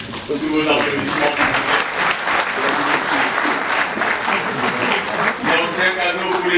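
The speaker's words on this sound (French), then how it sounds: "Sous vos applaudissements." An audience at an official ceremony of the RDC–Angola joint commission claps in sustained, dense applause, with a voice speaking over it throughout.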